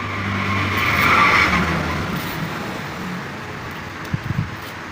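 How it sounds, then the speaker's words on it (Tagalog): Steady roadside traffic rumble with a passing vehicle's tire hiss swelling and fading, followed by a few short thumps. "Pasensya na kayo sa ating video at medyo maingay. Tabing kalsada lang tayo."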